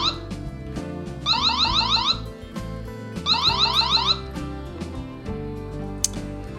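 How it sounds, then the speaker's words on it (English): A loud electronic alarm siren from a Xiaomi CW500 security camera cycles through rapid warbling and chirping tones in two bursts, separated by shorter patterned beeps. "So the camera also has alarm, so if you press that button, it'll play a sound."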